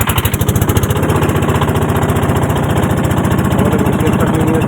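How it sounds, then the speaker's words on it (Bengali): A boat engine starts and settles into a loud, close, steady rhythmic chugging that runs without pause from start to finish. "তো আমার কাকা দিচ্ছে মেশিন স্টার্ট।"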